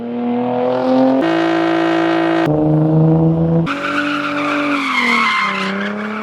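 A Nissan 350Z with an aftermarket exhaust roars loudly through several revs and gear changes, its tone stepping up and down in distinct stages.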